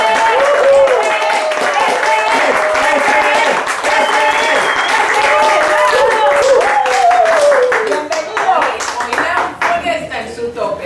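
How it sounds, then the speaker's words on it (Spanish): Audience applause and clapping welcoming a guest onto a talk show stage, a loud, sustained, dense wash of hands that carries on steadily and thins slightly near the end. "Recibamos con un aplauso a Joan Sebastián"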